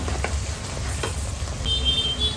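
Onions and green chillies fry in a pan for chicken liver fry, giving a close, steady sizzle with a few light stirring clinks over a low rumble, brief and without talk.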